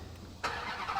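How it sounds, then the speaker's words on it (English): A supercharged Hellcat V8 fires up with a sudden loud burst about halfway through, then settles into a steady, full-bodied idle rumble close by, with no talking. "There's nothing quite like a Hellcat V8 engine with supercharger. Yes, it makes noise, but it's a nice noise."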